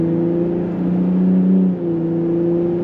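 A 2025 Ford F-150 Raptor's engine and exhaust pull under acceleration, a loud steady droning hum that rises in pitch, dips briefly at a gear shift, then carries on, heard from inside the truck without talk.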